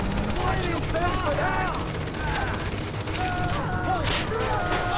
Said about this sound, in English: Sam, you're on a freaking machine gun. Shoot them.